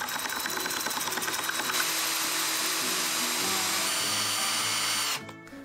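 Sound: drilling holes in tiles with a masonry drill bit

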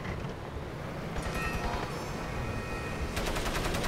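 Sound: gunfire in the video game Crysis

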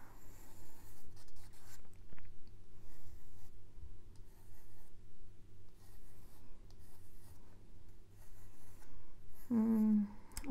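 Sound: drawing with a pencil

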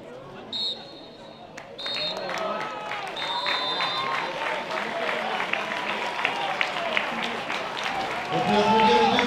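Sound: applause for football teams

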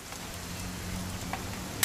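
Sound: rain in the video game What Remains of Edith Finch

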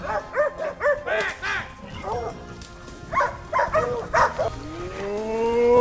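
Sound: hunting dogs barking during a hog hunt

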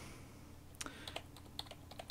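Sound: typing on a computer keyboard

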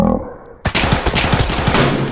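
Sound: gunfire in the video game Escape from Tarkov

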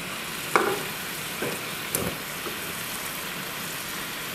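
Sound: barbecue sauce heating and sizzling in a pan

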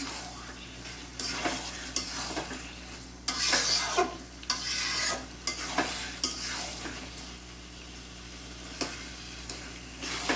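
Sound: tomatoes frying and being stirred in pan

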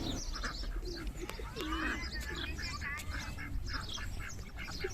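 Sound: pigeons cooing

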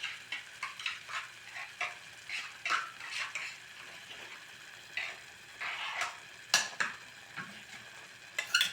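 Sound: frying raw ground masala paste in oil

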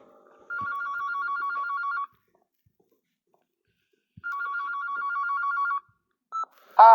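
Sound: telephone ringing

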